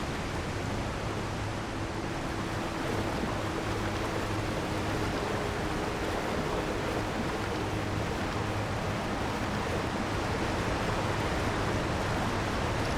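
Steady broadband rush of a waterfall in the video game Elden Ring, a constant, loud roar of falling water with a faint low hum beneath, continuing unchanged throughout with no voices.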